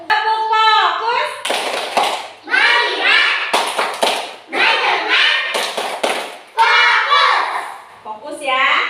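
Children in a classroom chanting and clapping the tepuk fokus routine, rhythmic bursts of hand claps alternating with young voices calling out in unison, loud and close.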